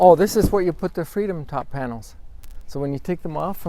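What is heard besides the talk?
No everyday noise stands out behind the speech.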